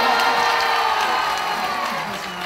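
Audience at a Royal Caribbean juggling show cheering, whooping and clapping as a crowd, loud and continuous throughout, with children's shouts mixed into the noisy roar.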